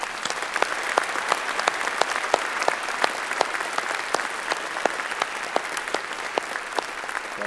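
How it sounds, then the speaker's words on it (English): Sustained applause fills a university graduation ceremony hall as staff are thanked, a dense, steady clatter of many hands that holds constant throughout. "we thank them with a round of applause"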